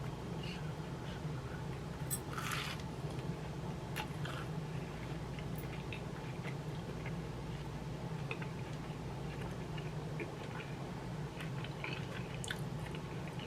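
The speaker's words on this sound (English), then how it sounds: "Okay, I'm gonna bite it." Soft, close bites and chewing on a smoked sausage, egg and cheese grilled cheese sandwich, quiet crunches and squishy mouth sounds scattered over a low steady background hum.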